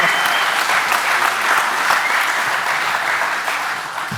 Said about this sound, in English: Round of applause for Milwaukee for being the title sponsor today.